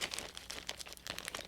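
Close, continuous crinkling and crackling of a thin, aged plastic bag, a rapid run of sharp rustles with no voices.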